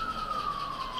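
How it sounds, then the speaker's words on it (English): An ambulance siren passing near a gas station sounds as a steady, moderately distant wail that slides gently lower in pitch, heard alone. "hold on, there's an ambulance"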